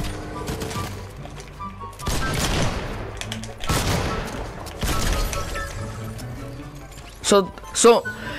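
Gunfire in a battle royale video game comes in several loud bursts, a rapid fusillade of shots with sharp cracks and two punchy blasts at the end, while a player talks over much of it.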